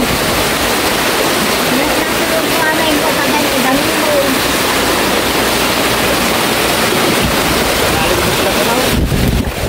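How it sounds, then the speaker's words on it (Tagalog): Typhoon floodwater rushes through a village in Mindoro, a loud, continuous roaring wash of turbulent water with wind buffeting close to the microphone throughout. "Ay, grabe naging ilog dito"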